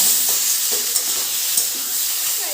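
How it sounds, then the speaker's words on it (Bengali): Boiled taro stalks stirred into fried lentil paste in a pan, giving a steady soft sizzle with faint scraping stir strokes throughout, close and alone. "এবার দিয়ে দিলাম কচুর ডাঁটা সিদ্ধটা আগে কিন্তু জল ঝরিয়ে রেখেছি সুন্দর করে তা দেখো এবার দিয়ে এর সঙ্গে মিশিয়ে নেব"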